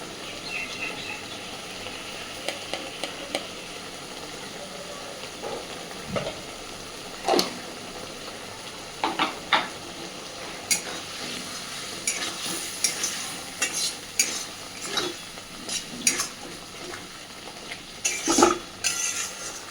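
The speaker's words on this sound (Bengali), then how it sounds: "সুন্দর করে এবার আলুর সাথে মশলাটাকে বেশ খানিকক্ষণ সময় নিয়ে একটু কষিয়ে নেব" Spices and potatoes fry in a pan while being stirred for a rohu fish curry, a steady sizzle broken by repeated scraping and clinking of the spoon against the pan.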